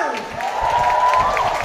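A church congregation at a Filipino El Shaddai worship service claps and cheers in a brief swell of applause and shouting that rises and holds steady.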